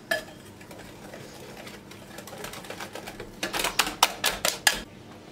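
A whisk beats flour into egg batter for a chocolate soufflé, at first soft and muffled, then building into a quick run of sharp rhythmic clicks against the bowl.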